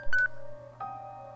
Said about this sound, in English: Kajiwara's phone rang, and he pulled it from his pocket.